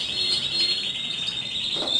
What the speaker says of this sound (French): je fais un petit balayage avec vous des oiseaux